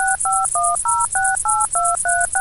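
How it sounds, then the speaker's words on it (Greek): A telephone number is dialed on a keypad to reach Klimatistiki Ioanninon, an air-conditioning business: about ten clear, evenly spaced touch-tone beeps ring out alone at a steady, quick rhythm. "Πήγαινε στο σπίτι και πάρε τηλέφωνο τον Νίκο τον Κούρκουλο"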